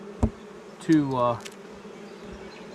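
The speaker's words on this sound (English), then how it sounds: "I have a whole bunch of frickin' bees" Honeybees in a month-old nuc colony buzz briefly close by, a short swelling drone rising out of quiet outdoor background, with a voice speaking faintly.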